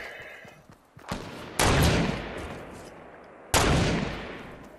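Video game gunfire rings out as loud single shots with long decaying echoes, two heavy blasts a couple of seconds apart after a softer earlier report, with no talk over them.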